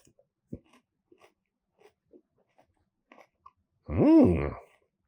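A few faint clicks and rustles, then one short crunchy bite into a sweet Mountain Roaster pepper close to the mic near the end.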